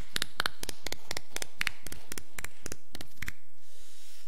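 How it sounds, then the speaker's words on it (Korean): Congregation at a Sunday church service clapping together in a crisp, even rhythm of about four claps per second, sharp and close, then stopping abruptly into near silence. "박수로 우리 하나님께 영광을 올려드리십시오."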